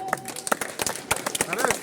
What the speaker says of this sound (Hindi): एक बार बहुत अच्छे ताली बजाते।